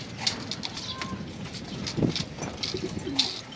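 Pigeons feeding in a loft, soft cooing and faint pecking and rustling close by, quiet and continuous with small bright clicks scattered through.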